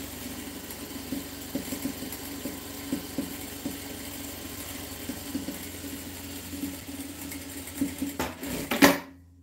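A sewing machine stitches a seam on a dish towel, running in a steady mechanical patter of fast needle clicks with a louder burst and clatter just before it stops.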